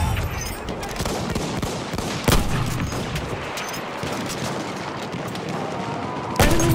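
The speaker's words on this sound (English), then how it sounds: "Look out, the machine gun." Battlefield 1 combat with machine gun fire, dense sustained crackling gunfire and sharp louder shots in a noisy game battle, with voices calling out over it.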